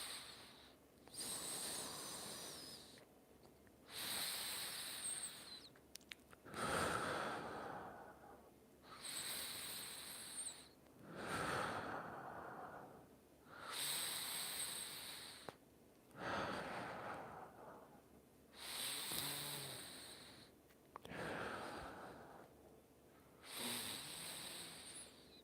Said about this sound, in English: Let's do some breathing.